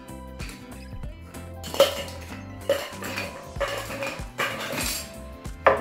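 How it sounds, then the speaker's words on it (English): Ice cubes dropped into a metal cocktail shaker tin while making an East India House cognac cocktail: several bright clattering clinks in bursts, close and fairly loud, with quieter handling between. "So I'm gonna add some ice cube in our tin."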